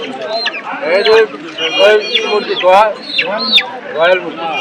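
Chickens cluck and squawk in short repeated bursts, fairly close, with a busy background of other fowl at a poultry market.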